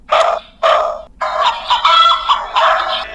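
Recorded animal sounds, barks and clucking, from a children's learning toy mobile phone: several loud electronic bursts in a row with short gaps, played alone.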